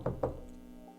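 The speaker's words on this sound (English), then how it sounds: "Dave heard someone knocking on his door." Two quick knocks sound on a door, fairly quiet and close together, followed by a faint hum and no talking.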